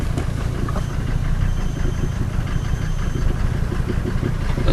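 A 1990 Mercedes 300D diesel engine idles in park after a cold start, a steady, close, low clattering rumble with an even rhythm throughout.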